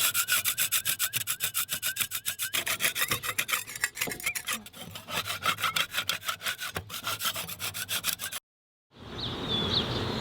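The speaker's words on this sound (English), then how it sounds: "Let's get deep. Let's get scraping." A scraper works old blacking paint off a narrowboat hull in fast, rhythmic rasping strokes, close and loud. The scraping cuts out abruptly near the end, and a brief different noise follows.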